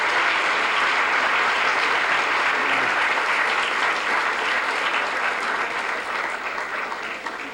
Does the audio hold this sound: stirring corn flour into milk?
no